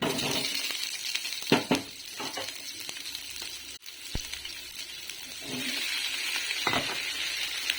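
Onion and tomato frying in ghee in a pan, a steady close sizzle with scattered spoon scrapes and metallic clinks, one sharp knock midway, no speech.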